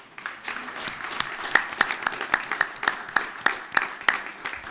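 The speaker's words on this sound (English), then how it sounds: "Let's give them a round of applause." A city council meeting in Birmingham bursts into applause from the chamber: a steady wash of many hands clapping, with sharper individual claps standing out, sustained throughout without talk.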